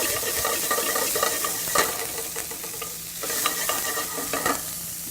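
Garlic and onions sizzle steadily in olive oil in a pan, a close, continuous crackling hiss with occasional stirring scrapes and clinks throughout.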